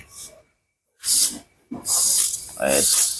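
Compressed air blows in short, loud, close hissing bursts onto the injection system sockets of a motorcycle, separated by brief silences, and the hiss grows longer toward the end.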